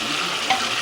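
Stinging nettle (kandali) paste is fried with onion and masala in a pan, a brief close sizzle with a short stirring scrape, with no voices.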